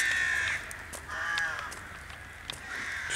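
Crows cawing repeatedly around a castle grounds, several harsh calls in an irregular series, moderately near, with no talk.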